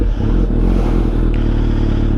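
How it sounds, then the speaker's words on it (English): A Kawasaki Z900 motorcycle engine idles steadily up close with a low, even rumble and no voices. "Okay, so you just start the engine"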